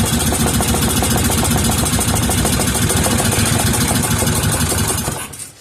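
A 3.5 hp Briggs and Stratton small engine runs loud and close with a fast, rough, steady chugging, then sputters and dies away at the end.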